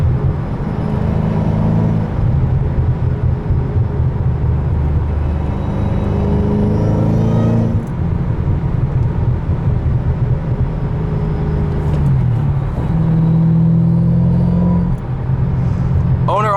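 A turbocharged car engine running at about 25 PSI of boost, a loud steady low rumble throughout with rising and falling pitch sweeps as it revs.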